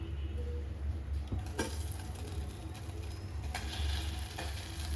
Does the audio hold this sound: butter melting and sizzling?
yes